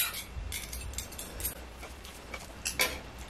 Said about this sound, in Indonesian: sekarang kita aduk. Kita aduk dulu